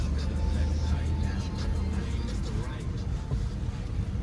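Ex-police 2017 Ford Explorer driving, a steady low engine and road drone filling the cabin from inside, with a person talking over it throughout.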